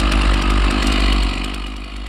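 Chainsaw milling timber for a timber-framed greenhouse: a loud, close, continuous engine drone that eases slightly toward the end, with no talk.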